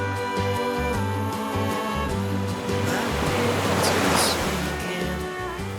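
Ocean surf washes steadily at Shelter Bay, a broad close hiss that swells slightly near the end over a low droning hum.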